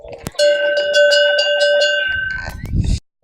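A pique, a straight, rounded French cowbell, struck once and then shaken in a rapid series of bright metallic clanks with a ringing tone, ending with a rustle.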